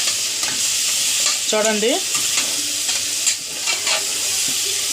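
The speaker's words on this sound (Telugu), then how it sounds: "మా అమ్మ ఇవాళ ఉల్లిపాయ అన్నీ వేసి కిచిడి చేస్తుంది." Onion, tomato and potato frying for kichdi give a constant loud sizzle, with a spoon stirring and scraping through the pan and a brief voice over it.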